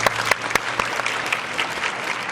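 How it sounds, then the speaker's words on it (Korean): An audience at a neighbourhood residents' assembly claps for a committee head after a presentation, a close, loud burst of many hands with a few sharp individual claps standing out, holding steady throughout. "분과장님께 박수 부탁드립니다"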